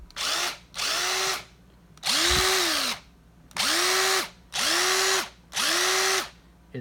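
Cordless 3-speed drill running in five or six separate bursts, each spin rising to a steady whine and cutting off in a regular on-off rhythm, close and loud with no talking.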